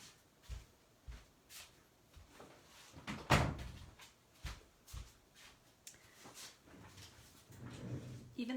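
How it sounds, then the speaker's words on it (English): An office door at home is pulled shut, giving a clear thump about a third of the way in, with several softer knocks and faint shuffling around it and a quiet voice in the background. "I'm just going to close my office door"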